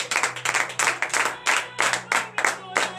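Church congregation at morning prayer clapping together in acclaim of the Lord, a loud rhythmic series of close hand claps in steady bursts with voices mixed in.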